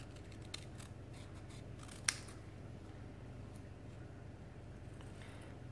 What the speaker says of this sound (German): Den schneide ich mir jetzt einfach mit der Schere ziemlich schmal